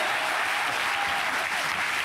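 Dense, steady audience applause fills the whole short stretch on a French television talk show, a continuous wash of many hands clapping with no voices over it.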